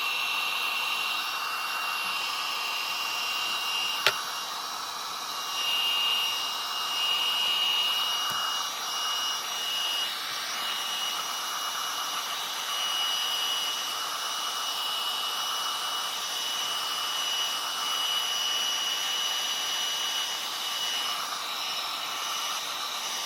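A hair dryer blows a steady, even whoosh over a freshly painted watercolor card for a long stretch, close and loud, with one brief click partway through and no talking.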